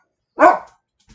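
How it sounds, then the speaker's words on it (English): A single sharp dog bark, close and loud, rings out indoors and is followed by silence. "because I've got a barking dog, as you can hear."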